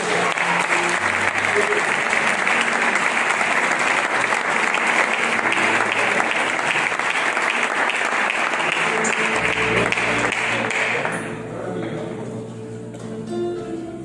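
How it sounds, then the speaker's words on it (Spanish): Sustained applause from a church congregation fills the room for about eleven seconds, loud and dense, then fades to scattered claps as it dies down. "¿Cuántos pueden darle un aplauso a su palabra?"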